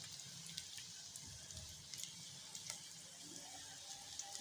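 Sliced onions fry in half a cup of oil in a kadai, a steady quiet crackling sizzle with small pops, heard alone with no talk.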